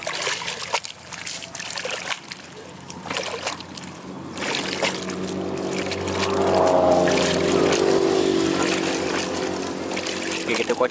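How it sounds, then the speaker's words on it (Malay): Seedling roots swished and shaken in a bucket of water to wash off leftover soil, giving a steady sloshing and trickling that swells midway, with a voice talking over it. "kita kocakkan dia dalam air"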